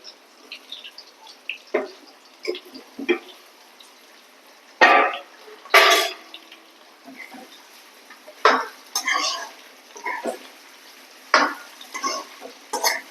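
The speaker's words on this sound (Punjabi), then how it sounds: "ਆਪਾਂ ਲੋਕੀ ਨੂੰ ਤਲਣਾ ਵਾ ਵਿੱਚ ਫਰਾਈ ਕਰਨਾ" Bottle gourd frying in a pan over medium heat, with intermittent sizzling bursts and stirring scrapes over a quiet background, some louder hisses as pieces are turned.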